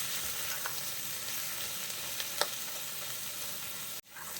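Chopped capsicum and onion sautéing in a pan for a Kerala-style broccoli roast, giving a steady close sizzle with a few soft clicks of stirring, then a brief cut near the end.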